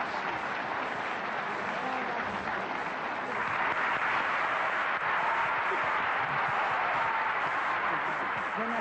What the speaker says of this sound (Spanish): Los aplausos para esta maravilla de mujer.